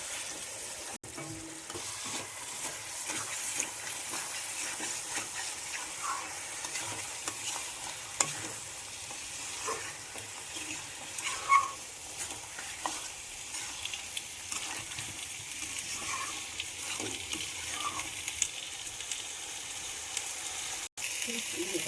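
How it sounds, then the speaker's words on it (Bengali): Chicken pieces sautéing with spices over low heat, a soft steady sizzle with occasional quiet stirring scrapes, faint and even throughout. "স্লো আঁচে মাংসগুলো মশলার সঙ্গে কষিয়ে নিচ্ছি।"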